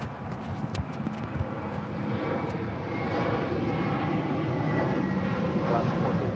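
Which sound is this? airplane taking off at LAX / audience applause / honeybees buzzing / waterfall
airplane taking off at LAX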